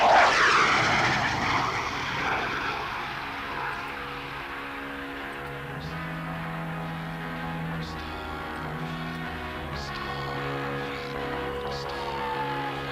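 F-104 Starfighter jets at an airshow give off a broad, roaring engine rumble that surges loudly at first and then settles into a steady distant drone, with faint crowd noise and talk underneath.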